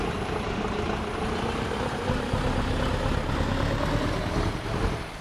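A heavy truck engine in Euro Truck Simulator 2, a steady low rumbling drone that holds throughout, rises slightly midway and eases off near the end, with no speech over it.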